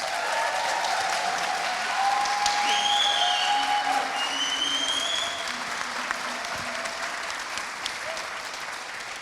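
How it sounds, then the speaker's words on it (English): Audience applause follows a live performance, a dense sustained clapping that continues steadily and fades slightly, with faint tonal music-like lines threading through it. "I think we should give them a round of applause."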